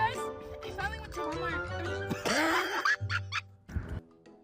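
A woman lets out a throaty, cough-like burst partway through that could pass for a laugh, set among a stretch of voiced, tonal vocal sounds, fairly close and moderately loud.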